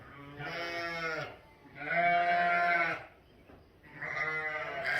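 Weaned ewes bleat loudly at suppertime on a farm, calling for their lambs in three long, wavering cries with short pauses between them, close by and carrying over each other.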